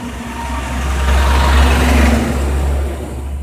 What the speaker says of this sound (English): Big old truck, little street, ready to go.